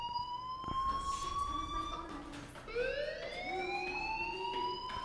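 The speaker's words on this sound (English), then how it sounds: "Is that a normal fire alarm sound?" A fire alarm in the video game Life is Strange wails as a sustained, rising siren-like tone that restarts partway through, steady and moderately quiet, with a faint murmur of talk underneath.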